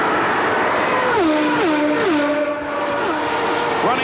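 IndyCar race cars at the 1993 Indianapolis 500 accelerating down the backstretch, engine notes climbing and stepping through gear changes, several cars heard in succession at a steady moderate level with no talking.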